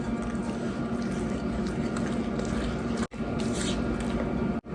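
Tamale pie batter of milk, corn and cornbread mix being stirred together, a continuous wet squishing and sloshing that runs steadily close by, with two brief pauses.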